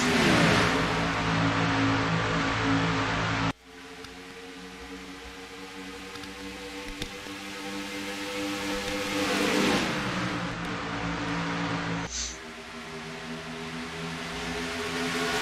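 NASCAR stock car engines in a racing video game at Chicagoland Speedway, a loud sustained roar whose pitch climbs and drops as the cars shift and jostle for position, with no voices.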